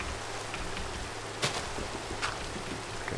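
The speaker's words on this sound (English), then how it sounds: "and it's raining" Soft, steady rain falls in the video game Minecraft, a faint even hiss near a small cave shelter with a couple of brief sharper patters.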